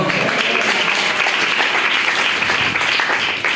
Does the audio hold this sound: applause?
yes